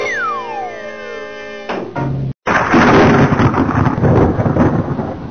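Loud thunder rumbles with heavy rain pouring steadily. The thunderstorm follows a short musical jingle and a brief silent gap, then keeps going densely to the end.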